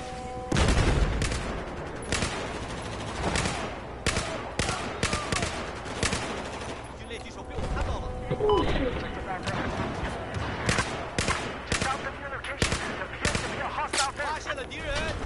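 Loud bursts of automatic gunfire and scattered shots trade back and forth in a shooting video game, sharp reports repeating over the whole stretch with a voice talking in between.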